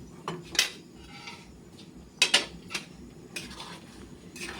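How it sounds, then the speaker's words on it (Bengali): A spoon stirs goat-leg ghugni in a pot on a gas stove indoors, giving a few sharp metallic scrapes and clinks against the pot over a low background hiss, with no talking. "একটু লড়াচড়া করে দিই।"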